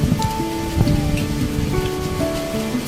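A steady close shower of rain patters on a surface, with faint tonal household noise running under the hiss.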